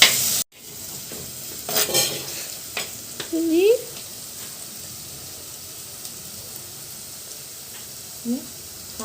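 Ginger sautéing in a pan for a Kerala-style curry, with a quiet, steady sizzle, a few clattering stirs and scrapes early on, and a brief voice near the middle.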